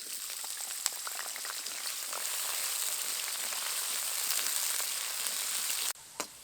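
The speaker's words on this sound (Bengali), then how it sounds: "কড়াইতে পরিমাণ মতো সরষের তেল দেব, আলুগুলো দিয়ে ভেজে নেব।" Potatoes frying in mustard oil in a wok make a continuous bright sizzle with scattered pops and crackles, fairly close and without speech, ending in a short utensil knock.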